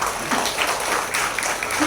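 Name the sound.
audience applauding for the women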